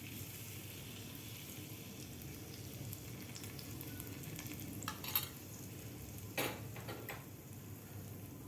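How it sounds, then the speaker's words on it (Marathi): Hot tempering poured over raw mango pithla, a faint low sizzle throughout with a couple of brief sharp crackling bursts, quiet and with no voices. "तर आपण गॅस बंद करून हा तडका आपल्याला पिठल्यावर घालायचा आहे."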